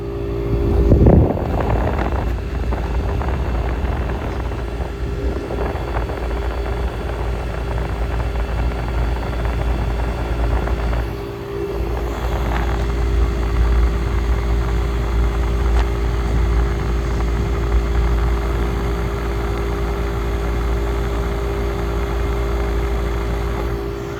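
Fan of a vintage window air conditioner running steadily, a continuous close whirring drone with low hum for the whole stretch, alone without talk.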